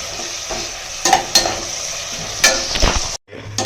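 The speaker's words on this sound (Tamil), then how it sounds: "இப்போ இந்த இஞ்சி பூண்டு பேஸ்ட்டை நம்ம அதில் சேர்த்துக்கலாம் இது நல்லா இஞ்சி பூண்டு வாசனை போகிற அளவுக்கு நல்லா கலரி விட்டுக்கலாம்" Ginger garlic paste fries in a pan for a corn vegetable biryani, with a steady close sizzle and a few louder scrapes as a spoon stirs it. The sizzle cuts out briefly near the end, then returns more quietly.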